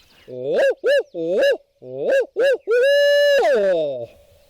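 A person imitates an owl's hoot with voice while turkey hunting on Wisconsin public land, a series of rising and falling hooted calls ending in a long sustained note, loud and close.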